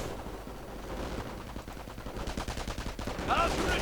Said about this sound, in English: MP40s and assault rifles for everyone.